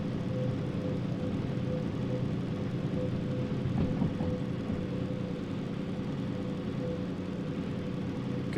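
Train engine braking in a train driving simulator, a steady, droning low engine rumble with a faint hum, continuous and even throughout with no talking.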